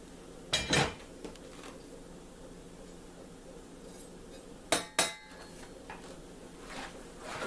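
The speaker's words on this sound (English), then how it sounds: "you want to also mix the garlic in very well with stirring" Rice with spices, oil and chopped garlic stirred in a hot pan, a metal utensil knocking sharply against the pan in a few separate clanks over quiet background hiss, with no voices.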